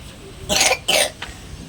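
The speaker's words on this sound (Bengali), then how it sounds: "খক খক কাশি আছেই, লেগেই আছে" A person gives two harsh, close coughs in quick succession, followed by a fainter third catch of breath against a quiet room background.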